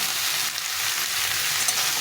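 Mixed vegetables frying with spices in a pan give a close, even hiss and crackle of hot oil, steady and unbroken for the whole moment.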